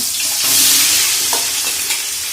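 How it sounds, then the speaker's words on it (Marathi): Onions sizzle loudly in oil with garam masala in a pot for chicken biryani, with a steady close fry and a few stirring clinks and scrapes. "कांदा घातला, कांदा चांगला लाल होईपर्यंत आपण परतून घ्यायचा आहे।"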